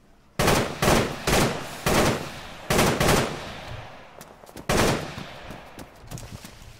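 Bursts of automatic gunfire in the military shooter game Arma 3, a police shootout across a road near an apartment building, with several loud volleys of rapid shots separated by short pauses and fading echoes.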